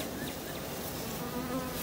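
Honey bees, nurse bees in a hive, make a dense, steady buzz that is close and continuous, with no pauses or voices.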